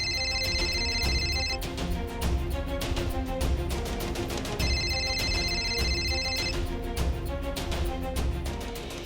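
A telephone rings in two electronic bursts, each lasting about a second and a half, over busy background music.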